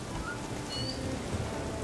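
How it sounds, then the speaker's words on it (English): Steady rain in the video game The Witcher 3, an even, close patter with faint higher chirps briefly above it. "Has it always been raining?"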